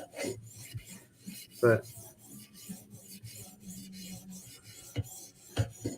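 A blade is being sharpened, with steady rasping, filing strokes repeating throughout, fairly close and moderately loud, with a few sharper scrapes standing out and a brief spoken word.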